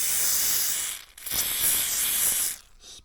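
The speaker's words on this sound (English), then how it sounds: "put a little gob of spray on there" An aerosol spray is applied to a corroded battery terminal on a Chevrolet Silverado 3500 HD High Country truck, giving two loud, close hissing bursts separated by a brief pause.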